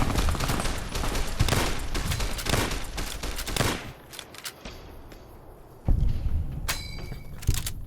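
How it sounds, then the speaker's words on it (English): A gecko rattles off a light machine gun in Fallout: New Vegas, a dense, rapid stream of loud shots for several seconds, then a lull broken by a few isolated heavy bangs. "It's carrying a light machine gun!"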